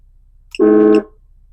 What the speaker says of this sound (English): That is going to be their main air horn